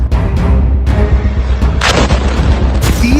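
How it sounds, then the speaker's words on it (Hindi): Booming detonations tied to the Israel–Hamas conflict strike in quick succession, several sharp, loud thuds over a rumbling low bed, the last one bursting brighter near the end. "तीसरा धमाका"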